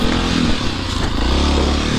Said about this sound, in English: Just got to get this tree on the other side of my motorcycle.